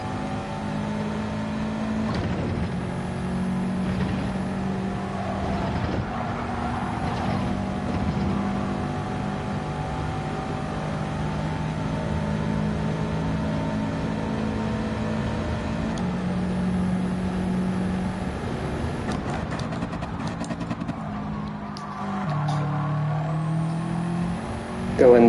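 Race car engines in Gran Turismo 7 at Dragon Trail, a steady drone of revving with pitch rising and dropping through gear changes, continuous throughout with a brief burst at the end.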